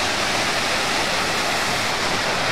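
Water rushing steadily beneath an old stone aqueduct bridge from around 1900 at Placilla, a dense continuous roar close by, alone without voices.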